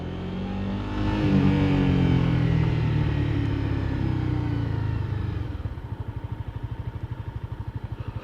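A small motorcycle engine rumbles loud and close, building to a strong roar before easing down into a rapid, steady low putter near the end, with no talking.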